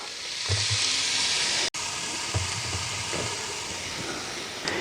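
Meat browning in a pan on a wood-fired stove for chilli con carne, a dense, even sizzle with a few low knocks and shifts as pieces are moved, close and steady, with no talking.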